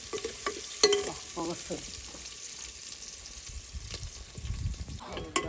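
Food frying in a pan until browned ahead of ginger garlic paste for a country chicken dish, a steady sizzle broken by spoon scrapes and clinks, with a brief spoken word.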